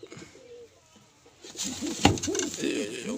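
Pigeons kept with their two chicks coo nearby, a soft low murmur at first that swells into repeated, louder rolling coos with a brief sharp bump partway through.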